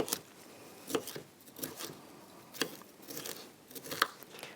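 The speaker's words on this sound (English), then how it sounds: "I'm going to continue cutting up the rest of the broccoli" Knife chopping broccoli on a cutting board, a handful of faint, irregular crisp cuts spaced about a second apart, recorded quietly with no talking.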